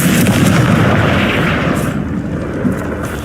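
A Confringo blasting spell goes off in a video game, a heavy booming explosion with a rumbling, crackling roar that fills the whole stretch and slowly fades toward the end.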